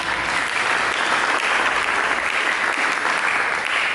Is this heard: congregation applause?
yes